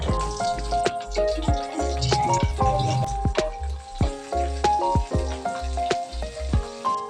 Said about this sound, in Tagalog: At magpiprito nga din ako ng tuyo.